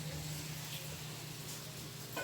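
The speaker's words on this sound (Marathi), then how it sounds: "मस्तपैकी कोळंबी आता तव्यात टाकलेली आहे" Prawns fry in a flat pan, giving a faint, even sizzle with a low steady hum underneath and a slight scrape near the end; short, quiet and continuous, with no talking.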